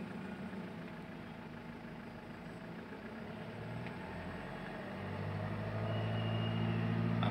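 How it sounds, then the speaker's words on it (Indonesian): A worn 2018 Mitsubishi Pajero Sport Dakar 4x2 with a 2.4L engine, suffering heavy blow-by, idles steadily, then its revs climb toward 3000 RPM, the low mechanical drone growing louder and fuller near the end. "Coba kita ya tes di RPM 3000 apakah bagus."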